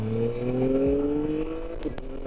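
A Yamaha Tracer 9 GT motorcycle with its CP2 parallel-twin engine rises in pitch as it accelerates, then a quick shifter gear change brings a brief dip before it pulls again, steady and fairly close.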